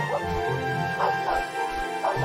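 A dog in the game Simon the Sorcerer 3D gives short repeated whimpering yips and barks, about one per second, over a steady game music bed.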